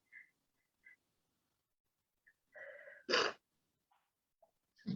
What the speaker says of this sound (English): Sorry, I've just suddenly started sneezing.